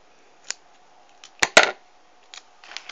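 A few sharp snips of scissors cutting, isolated clicks then a quick pair of louder cuts, close and otherwise quiet.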